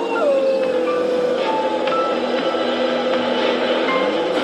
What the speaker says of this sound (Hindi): कुत्ते रोने लगे।